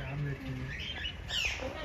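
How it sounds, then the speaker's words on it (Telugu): Lovebirds and parrots chirping in an enclosure at Kakatiya Park in Warangal, a few quick tweets close by with a voice talking over them. "ప్రేమ పక్షులు"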